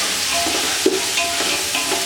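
Onions and green chilies frying in hot oil for biryani, a steady close sizzle with a spoon clinking and scraping through the pan now and then as they are stirred.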